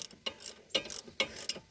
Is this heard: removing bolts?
yes